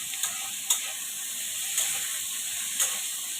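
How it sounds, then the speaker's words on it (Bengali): Paneer pieces frying in hot oil in a wok, a steady close sizzle with a few sharp stirring scrapes spaced across it. "পনিরটাও হালকা ফ্রাই করে নেব"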